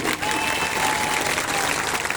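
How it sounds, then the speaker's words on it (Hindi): Loud, dense applause from an audience at a pension-rights rally speech in Ujjain fills the whole moment, steady and continuous without a break. "जोरदार तालियां, पीछे मेरे"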